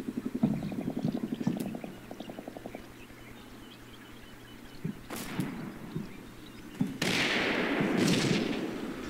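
Mortar fire in the Combat Mission Shock Force 2 war game, heard as scattered distant thumps and rattling bursts, followed by two louder booming impacts whose rumble lingers toward the end.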